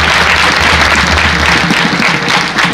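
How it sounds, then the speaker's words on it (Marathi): Audience at a kirtan performance claps loudly in a dense, sustained burst of applause, close and filling the space, with faint voices mixed under it. "सर्व कार्यकर्त्यांसाठी एकदा जोरदार टाळ्या वाजवा."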